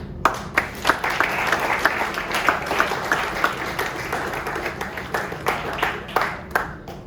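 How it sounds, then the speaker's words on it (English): A group at a frosh team end-of-season party claps for the team, with sharp individual hand claps standing out over a continuous bed of applause that keeps up at a lively, uneven rhythm. "So, clap it up for you guys."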